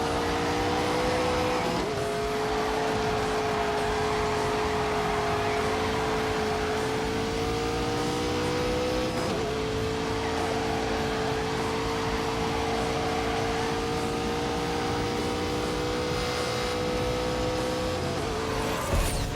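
Cars from The Grand Tour video game hold a loud, sustained engine note that shifts pitch as gears change, layered with continuous tire squeal and skidding in a dense racing roar.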